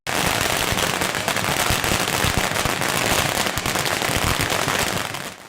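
A dense, continuous barrage of firecrackers pops and crackles loudly for several seconds at a Lunar New Year celebration with dragon dances, then starts to fade at the end.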